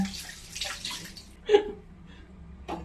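Fish is rinsed with water in a pan, with a few brief sloshes and splashes, close and moderately loud, between quieter trickling moments.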